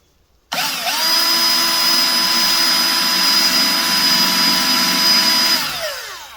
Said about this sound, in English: use a small drill bit to just get the hole started